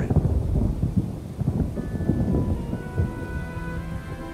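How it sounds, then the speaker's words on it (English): Steady rain pours throughout while deep rolls of thunder rumble repeatedly, loud and close, with no voices present. "Rain."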